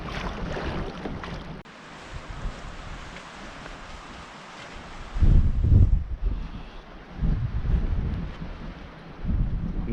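Strong wind gusting to around 50 over a lake, roaring and buffeting the microphone in heavy bursts with rough water noise beneath, loud and close.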